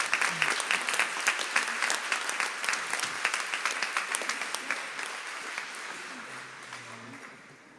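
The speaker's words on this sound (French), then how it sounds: "Vous pouvez l'applaudir." Church gathering audience claps steadily, a moderate round of applause that stays even and then fades out toward the end.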